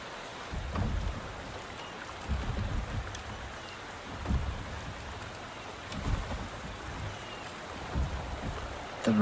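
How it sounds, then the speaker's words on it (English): Rain falling steadily in the Wuthering Waves game world, a constant hiss of drops on surfaces with low rumbling swells of thunder rolling in every couple of seconds, moderately quiet and without voices. "The rain is subsiding, and the sky will soon clear."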